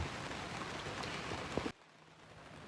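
Steady rain drums on the outside of a sailboat, heard from inside the cabin as a dense, even hiss that drops abruptly to a quieter patter partway through.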